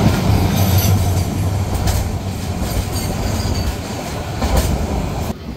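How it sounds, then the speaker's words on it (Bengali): Chittagong Mail, a classic midnight passenger train, pulls out of Dhaka past Tejgaon, heard from inside a cabin as a loud, steady rumble with rhythmic rail clatter and faint wheel squeal, continuous and close throughout. "ট্রেনটি ছেড়ে দিল চট্টগ্রামের উদ্দেশ্যে।"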